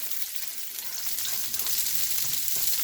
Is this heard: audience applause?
no